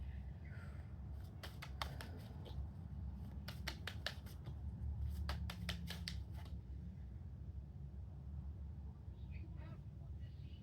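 Tarot cards shuffled in quick clustered riffles and flicks, crisp papery bursts coming in several bunches over a low steady background hum.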